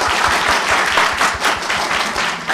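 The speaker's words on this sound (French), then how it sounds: "Et un tonnerre d'applaudissements, s'il vous plaît." Thunderous audience applause at a live performance show, loud dense clapping from a large crowd, close and sustained without pause.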